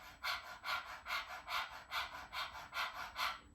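A person pants rapidly with the tongue out, like a dog, in about eight quick rhythmic breaths heard close and alone.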